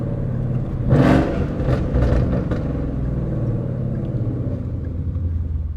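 Ford Mustang GT V8 rumbling through a downshift, a deep steady drone with a brief rev burst early on, heard close from inside the car.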